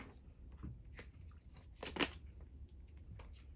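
Large oracle cards being handled and shuffled by hand, soft papery slides and flicks in a few short bursts with one sharper snap near the middle, close and quiet, without speech.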